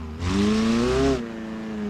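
Engine revving in a quick rising burst that climbs in pitch and drops back to a lower idle, loud and close, alone without talk.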